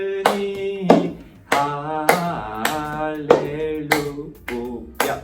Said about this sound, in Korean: 박수를 치고 컵발 잡고 내려놓는 거, 이게 포인트인 것 같아요